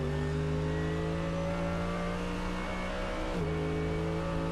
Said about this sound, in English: Just wanted you to enjoy the sound of that wonderful engine as Dennis Olsen for SSR Performance.